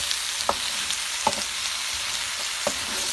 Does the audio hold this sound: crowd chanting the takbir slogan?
no